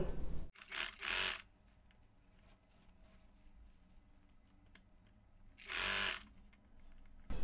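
A sewing machine stitching along the edge of saree fabric runs in two short, loud bursts, one near the start and one near the end, with quiet handling of cloth in between.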